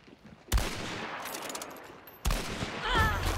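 Gunfire in Hunt: Showdown, a sharp loud shot at the start and another burst later, with fainter crackling in between, set against a game's ambient background.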